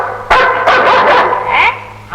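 A dog barks loudly and close by, several quick barks in a row followed by a yelping note near the end.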